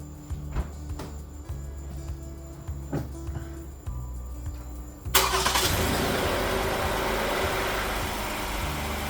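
A car engine cranks with a few short starter bursts against a low background hum, then catches and settles into a loud, steady idle for the rest of the clip.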